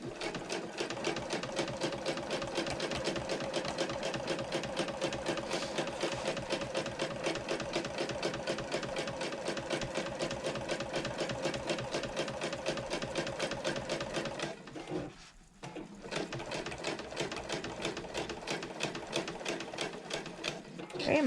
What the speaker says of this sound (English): I'm going to stop with my needle down, pivot, and then sew across the line.